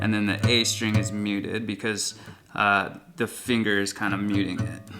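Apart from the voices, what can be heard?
No everyday noise stands out behind the speech.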